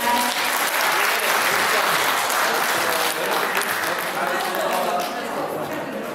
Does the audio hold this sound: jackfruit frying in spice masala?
no